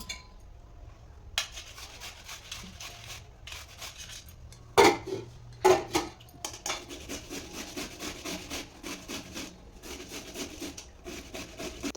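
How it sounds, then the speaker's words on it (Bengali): Giant taro (mankochu) grated by hand, with soft, scraping rubs close to the microphone, repeated and uneven, and a couple of louder knocks midway. "এই দিয়ে কষে নেবো মানকচুটা।"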